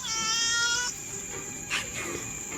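A cat in a run-down warehouse lets out one drawn-out, moderately loud meow that ends abruptly, followed by quieter background noise.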